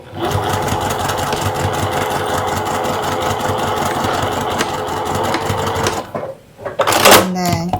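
A sewing machine runs steadily for about six seconds, back stitching at the center point while sewing a zip-around clutch, then stops. A short burst of voice-like sound follows at the end.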